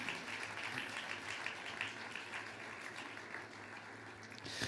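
A church congregation applauds in praise, with steady, dense clapping from a crowd that holds at an even level for the whole stretch and swells slightly at the very end.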